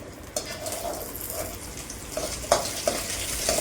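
Thuthuvalai leaves stirred and roasted in a pan over the flame, a steady soft sizzle with a few sharper scrape and clink accents from the stirring, close and moderately loud with no talk.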